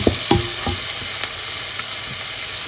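Cauliflower fries in a pan with onion and garlic, a loud steady close sizzle with a few scraping knocks of a spatula near the start.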